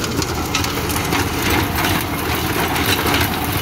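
A John Deere 5045 Power Pro tractor, 46 hp, runs steadily with a Sonalika rotavator working hard soil. The engine rumbles continuously and loudly at close range with no talking.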